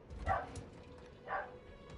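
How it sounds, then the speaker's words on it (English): A household dog barks twice, soft and distant, in a room where Hogwarts Legacy is being played, each bark short and muffled with a pause of about a second between them. "Ignore the barking dog."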